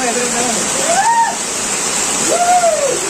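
Water flows down from above inside a cave temple, a steady, loud rushing wash that fills the space, with tonal chirps or whistles rising over it.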